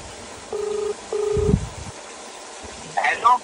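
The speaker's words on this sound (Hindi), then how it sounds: "एक बार इसको फोन मिलाते हैं" A mobile phone dials a call, giving two steady electronic dialing tones in a row, followed by a low thump and then a brief burst of ringback or chime sounds near the end.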